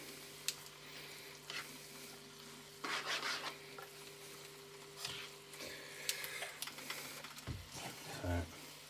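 Char siu lo mein noodles are stirred and tossed in a pan on a plug-in hob, giving a soft, steady sizzle broken by scraping and clinking pulses throughout.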